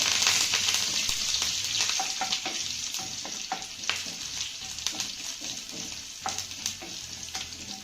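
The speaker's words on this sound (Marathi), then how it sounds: "फोडणी आपल्याला चांगली मिक्स करून घ्यायची आहे" A tempering of cumin, green chillies and curry leaves sizzles in hot oil, with an even crackling hiss and frequent spatula taps and scrapes as it is stirred, steady and close, softening slightly over time.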